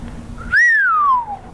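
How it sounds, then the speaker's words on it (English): A single man's whistle rises quickly then glides slowly downward in one long, clear, close tone lasting about a second. "Rick whistled."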